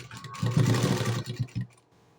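A sewing machine stitches the fabric of a blouse sleeve in a short burst, with a close rapid chatter that rises, stutters briefly, then stops.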